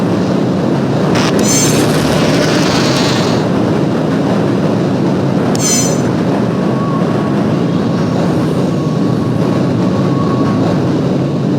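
A train in the game Half-Life: Opposing Force rumbles steadily along the tracks, a loud, constant roar with brief high metallic squeals now and then.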